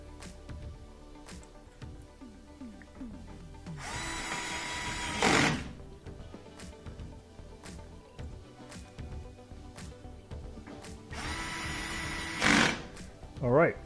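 Two bursts of a power screwdriver drive screws into the back panel of a Whirlpool washer, each whirring run lasting one to two seconds, close by, with quieter handling noises and some talk between them.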